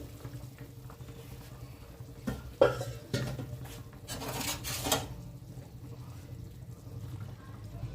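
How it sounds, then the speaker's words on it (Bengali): A metal lid clanks and scrapes as it is lifted from a wok, followed by a soft bubbling hiss from a fish curry with papaya simmering underneath, heard fairly close. "কড়াইয়ে ঢাকনা খুলছি"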